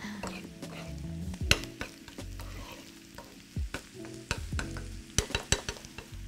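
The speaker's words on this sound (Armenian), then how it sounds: "Շատ գեղեցիկ տապակվում է" Onions frying in a pan, a soft continuous sizzle broken by repeated scraping and clacking of a spatula stirring against the pan, close and fairly quiet.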